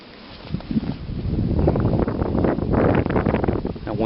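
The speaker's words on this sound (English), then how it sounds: "The wind is ferocious on top of the mountain here" Strong wind buffets the microphone on a snowy winter mountain top, rising into loud, gusty roaring rumbles that swell and fade over a few seconds, with faint voices underneath.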